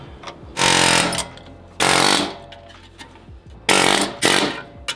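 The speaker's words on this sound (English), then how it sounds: "I like to remove the fan clutch with an air hammer" An air hammer rattles in three loud bursts of about a second each while removing a Silverado's fan clutch, separated by short quieter pauses, close up and harsh.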